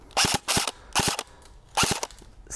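An airsoft assault rifle firing in short bursts, four sharp rapid clusters of shots spaced about half a second apart, close and loud with quiet pauses between.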